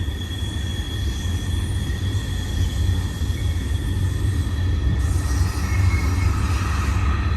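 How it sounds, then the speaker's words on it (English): A westbound BNSF freight train with mid-train DPU locomotives carrying international containers rolls past on main track two at Sullivan's Curve: a steady, loud rumble of wheels and cars, with faint squealing tones. "A lot of power on this train."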